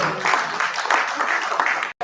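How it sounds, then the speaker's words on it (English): A crowd clapping steadily, a dense patter of many hands close by, cut off abruptly at the very end. "A round of applause"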